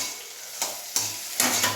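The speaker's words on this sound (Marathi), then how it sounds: "तर मी भाजीला टाकली भेंडी" Sliced okra frying in a pan with a cumin, mustard seed and green chilli tempering, a soft steady sizzle broken by three sharp stirring scrapes, close and without voices.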